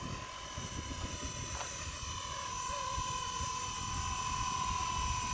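A Blade 230s V2 RC helicopter hovers in gusty wind, its rotor whine steady and fairly loud with a slight rise in intensity toward the end, heard from nearby on an outdoor field.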